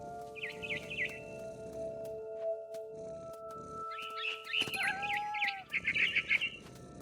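Bird chirping in the video game What Remains of Edith Finch: short bursts of high tweets early and again later, separated by quieter stretches with a low steady ambient hum and a few tonal effects, no talking.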